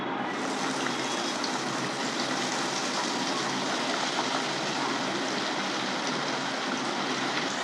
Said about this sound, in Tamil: கடாயை வச்சுக்கலாம். எண்ணெய் ஊற்றிக்கலாம். வஞ்சர மீனை போட்டுக்கலாம்.